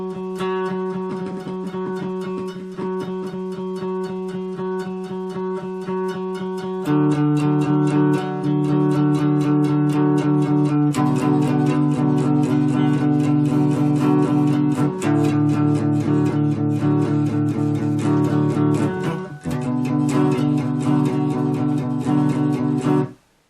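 Electric guitar picks out the first verse of a song, a steady run of repeated notes over sustained low tones, alone and loud, growing fuller partway through before a brief dip and a clean stop.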